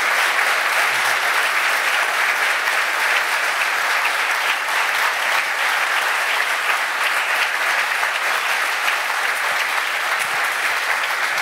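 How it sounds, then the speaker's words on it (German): A German sports TV show's studio audience applauds the guests at the close of the broadcast, dense, loud and sustained clapping that holds evenly for the whole stretch without letting up. "Einen großen Applaus für alle unsere wunderbaren Gäste hier in der Runde."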